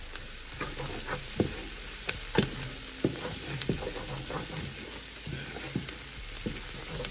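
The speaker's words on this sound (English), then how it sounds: "those onions are browning up real good" Diced yellow onions browning in a pan for Tuscan ravioli soup, an even crackling sizzle up close with frequent sharp clicks and scrapes of a utensil stirring, no talking over it.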